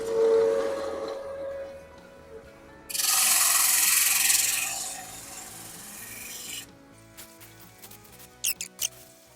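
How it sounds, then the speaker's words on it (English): A steady raspy abrasive rubbing as wooden edges are sanded on a drill press rises for a few seconds then fades, followed by faint scrapes and squeaks. "I could put it in my drill press and use that to sand the edges smooth"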